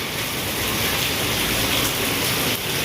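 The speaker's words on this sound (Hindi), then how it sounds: "यहाँ पे जो है वो तकरीबन ओले पड़ रहे हैं" Hail coming down outdoors, a loud, dense and unbroken hissing clatter that fills the whole stretch evenly, with no voices over it.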